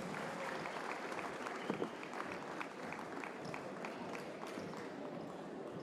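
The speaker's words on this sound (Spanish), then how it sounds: "Así nos despedimos con un fuerte aplauso." Steady applause from a crowd at a basketball game, many hands clapping continuously at an even level for several seconds.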